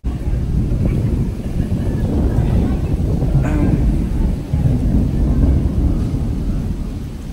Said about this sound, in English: that was the first time I've seen thunder that day